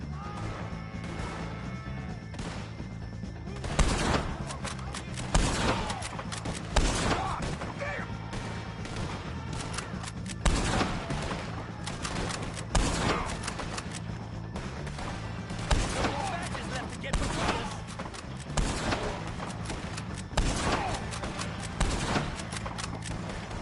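Video-game shootout against O'Driscoll gang members in a Western setting: repeated gunshots crack in scattered bursts over a steady background rumble, with voices shouting at times.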